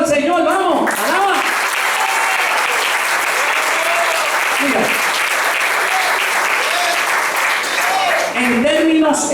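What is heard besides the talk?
church congregation applause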